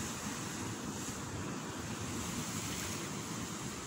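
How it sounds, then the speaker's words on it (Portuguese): Sea waves breaking on a shore at sunrise, a steady, loud, continuous roar of surf with wind noise on the microphone throughout, no voices. "Esse som do mar maravilhoso, essa força nos ensina, né?"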